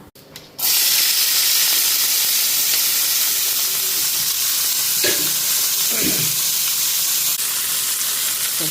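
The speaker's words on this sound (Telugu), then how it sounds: "పోపు అయితే వేగింది కూర వేస్తున్నా" Brinjal curry tipped into a hot tempering with green chillies and a small piece of coconut sets off a loud, steady, continuous sizzle, with a couple of spoon-and-pan scrapes as it is stirred.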